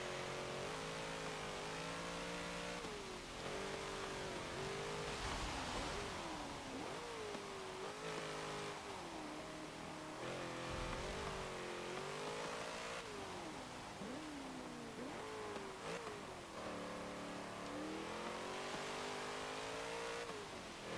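A 1990 Alfa Romeo SZ Sprint Zagato, tuned to far above stock power, revs continuously in the racing game Forza Motorsport, its engine note rising and falling through gear changes, close and sustained with no talk.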